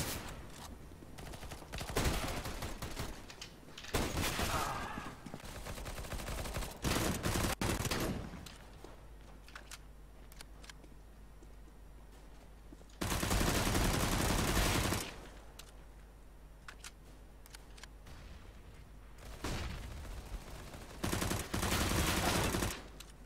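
Bursts of automatic gunfire from Counter-Strike: Global Offensive, loud sustained volleys with short gaps between them, heavy blocks of shooting alternating with quieter stretches of game ambience.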